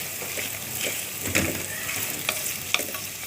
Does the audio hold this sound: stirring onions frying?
yes